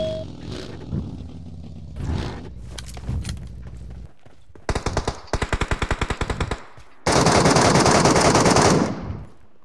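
Bursts of MK rifle gunfire in PUBG Mobile, sharp repeated shots in quick volleys, ending in a loud sustained stretch of rapid fire.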